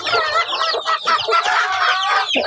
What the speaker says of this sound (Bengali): এখানে অনেক আওয়াজ হইতেছে মানে মোরগ তো এই যে মোরগ আমার